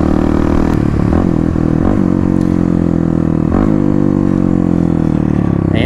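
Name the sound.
Kawasaki KLX351 motorcycle with full Barker exhaust downshifting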